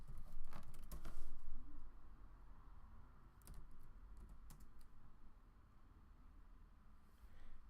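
Quiet typing on a computer keyboard while writing code, bursts of soft key clicks in the near field that start and pause, then resume briefly near the end.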